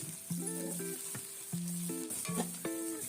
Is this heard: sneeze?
no